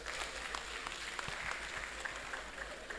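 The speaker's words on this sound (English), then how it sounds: "I think we should clap for ourselves." Audience at a congregational meeting clapping, a steady patter of many hands at moderate distance, continuous and fairly even without speech.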